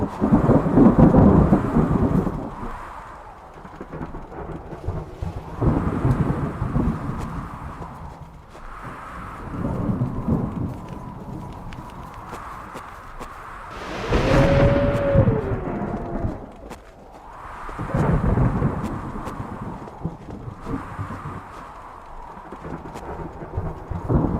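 Rain falls steadily in the survival horror game Dead Soil while thunder rolls in several long, deep rumbles spaced a few seconds apart, loud and enveloping, with no talk.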